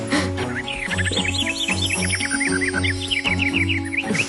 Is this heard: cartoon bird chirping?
yes